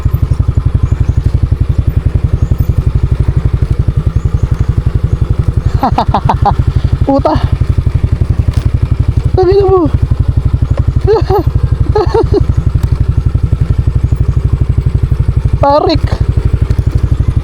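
A motorcycle with a newly replaced chain labours over rough off-road ground on a Laguna camping ride, its engine droning steadily close by throughout while a rider speaks in short bursts over it.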